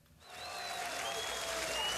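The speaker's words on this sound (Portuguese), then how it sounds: "Aplausos antes de um jogo." Applause rises from the stadium stands before a football match involving Esporte Clube Pelotas, a broad distant wash of clapping that swells in and holds steady, with faint whistles over it.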